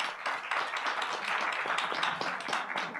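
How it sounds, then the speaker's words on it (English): Audience applause at a political solidarity meeting, a steady, fairly close round of clapping from many hands that carries on through the whole moment. "Let's give them a round of applause."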